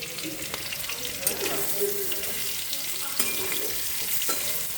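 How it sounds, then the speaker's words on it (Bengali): Potato pieces frying in a pan with salt and turmeric, a moderate sizzling hiss with occasional stirring clinks and scrapes, fairly close. "আলুটা ভাজা হয়ে যায়, তারপর এর মধ্যে মশলা অ্যাড করে দেবো।"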